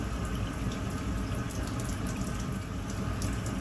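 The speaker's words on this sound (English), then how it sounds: "if I slow the tap down," Water runs hard from a tap during a combi boiler flow test, a constant loud rushing gush with no breaks or voices.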